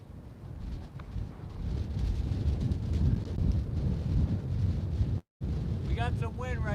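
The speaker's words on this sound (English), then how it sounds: "We got some wind right now." Wind buffets an outdoor microphone at the SpaceX Starbase site in Boca Chica, Texas, a steady low rumbling roar across the clip with a brief dropout near the end, followed by a voice speaking.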